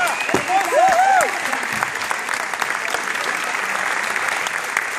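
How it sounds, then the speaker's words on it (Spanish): Steady applause from a crowd, loud and sustained, with a voice speaking briefly over it near the start. "Un aplauso, por favor."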